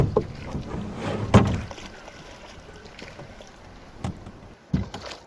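A wooden paddle pushes a canoe through the shallow, sticky water of a lake, making a few distinct knocks and scraping thuds against a quiet outdoor background with light wind, with gaps between the strokes.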